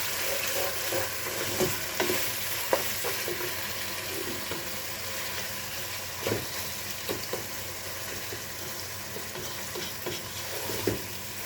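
Chicken pieces fry and get stirred in a pan with browned garlic and ginger for a spaghetti dish, a steady sizzle running throughout with repeated scraping stir strokes, close and alone with no talking.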